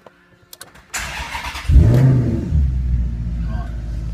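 A Maserati GT's V8 engine cranks and catches with a loud roar, then settles into a deep, rumbling idle with a brief rev, close by.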